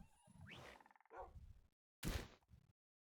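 A frog croaks in Minecraft, a few short separate croaks with gaps of silence between, close and clear with no talk.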